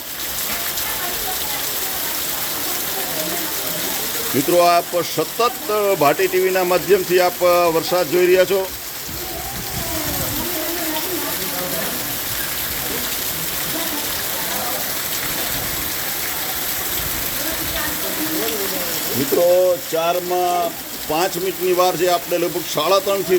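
Torrential afternoon downpour in Wankaner hisses in a loud, unbroken wash of rain, with a voice speaking over it in two stretches.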